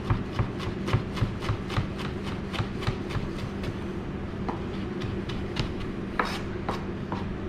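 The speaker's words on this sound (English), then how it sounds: "Again, nice fine chiffonade." A knife cuts fresh herbs into a fine chiffonade on a board, giving a steady run of quick, crisp, close taps with a slightly faster burst near the end and no talking.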